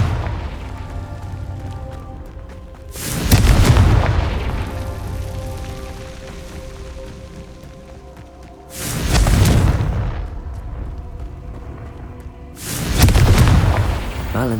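Three loud, booming fire-spell explosions from the Confringo curse in Hogwarts Legacy burst out at steady intervals, each a broad blast that fades into a low rumbling ambience.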